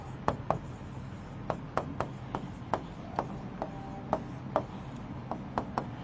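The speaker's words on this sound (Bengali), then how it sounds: "এবার দেখো একবার লিখে ফেলি" Pen or chalk writing out a chemistry equation during a lecture: a run of quick, sharp taps and short strokes in an irregular rhythm, close and fairly quiet, with no voice over them.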